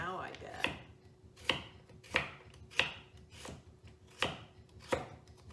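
A knife chops food against a cutting board in a steady rhythm of about seven crisp thuds, close and fairly quiet, with no talking.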